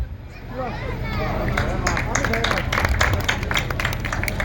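An audience applauding the readers at a roadside lecture gathering, a swelling wash of many hands clapping alongside a voice and crowd chatter.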